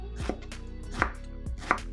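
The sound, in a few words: knife chopping eggplant slices into sticks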